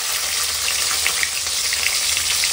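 Shallots and fennel seeds fry in hot oil with a continuous bright, crackling sizzle, close and loud, with light popping and no voices.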